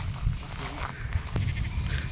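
Large male Himalayan Gaddi sheep bleat in a herders' flock outdoors, a couple of short bleats rising over steady low rumble and background noise, fairly close.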